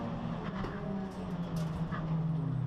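Ford Fiesta race cars roar around the Snetterton circuit during a championship race, engines droning and shifting pitch as they pass close together, a sustained loud motor sound with commentary faintly beneath.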